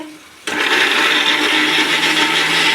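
A kitchen blender kicks on abruptly and runs at a steady, loud whir, grinding peeled, lightly boiled raw mango into a paste with no talking over it.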